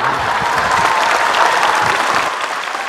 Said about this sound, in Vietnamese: Chúng ta cho anh Thảo một tràng pháo tay quý vị và các bạn.